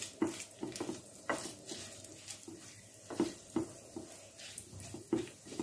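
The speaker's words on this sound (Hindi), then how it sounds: "और जो जीरा लिया तड़के के लिए वो ऐड कर देती हूँ और रेड चिली।" Cumin seeds and red chili sizzling in hot oil for a tempering for raw papaya raita, with faint crackling and a few light stirring clinks of a spoon against the pan, close and fairly quiet.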